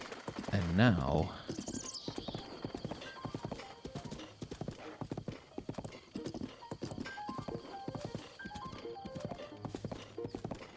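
A horse in the Breath of the Wild video game neighs at the start, then its hooves clip-clop in a steady galloping rhythm, with a few other game sounds layered over the hoofbeats.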